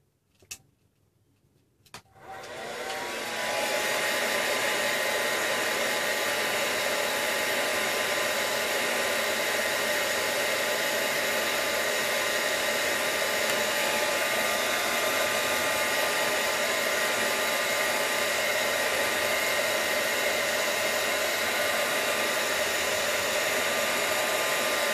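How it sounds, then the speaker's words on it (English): A handheld hair dryer blows to dry paint on a mixed-media art journal page. After a couple of quiet seconds with a few clicks it starts up into a loud, steady whir that runs unbroken to the end. "let me just hit it with the dryer."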